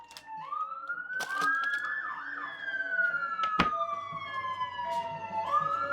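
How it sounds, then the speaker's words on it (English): Fire truck and ambulance sirens wail past, rising and falling in overlapping sweeps, clear and moderately close over faint background clatter. "I think that's a fire truck and an ambulance."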